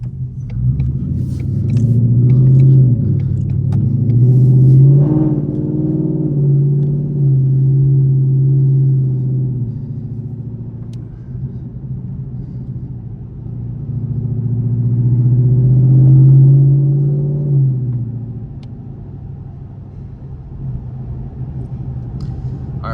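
A Ford Mustang GT sits idling in the snow as it warms up, its low, steady engine rumble swelling and easing twice over the span, close and loud, with no talking.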